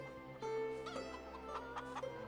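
Chickens cluck steadily in Farming Simulator 22, a farming game, with short clucks and squawks repeating over a constant humming farm ambience at moderate volume.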